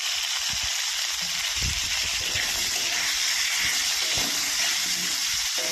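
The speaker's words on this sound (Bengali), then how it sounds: "এবার ফুলকপিগুলো ভাজবো।" Cauliflower florets, salted and dusted with turmeric, frying in a pan after potatoes, giving a steady, fairly loud broadband sizzle that holds evenly throughout with a few low clunks beneath it.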